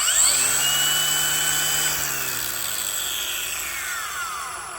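A battery-powered grinder runs at speed for sharpening large garden tools such as shovels, axes and machetes, giving a steady high whine with a slowly falling pitch, close and fairly loud, no talking.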